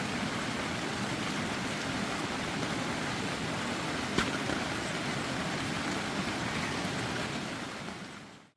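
Rain falls steadily for over two hours in a wilderness outdoors, making a continuous broadband hiss like surf. It stays even and fairly faint, then fades out at the end, with no voices.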